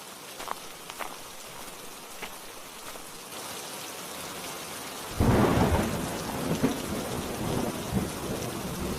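Steady rain pours down, with a deep rumble of thunder rolling in about halfway through and the downpour then growing heavier and louder, with no voices.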